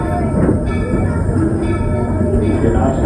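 A Disney park steam train, the Roger E. Broggie engine, rolls into Fantasyland Station with a steady loud rumble of wheels and carriage noise, continuous throughout with faint voices mixed in.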